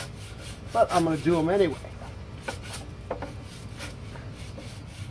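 Teak trim on a 1977 Boston Whaler 21 Outrage being scrubbed by hand, a series of close rough rubbing strokes, with someone speaking briefly at the start.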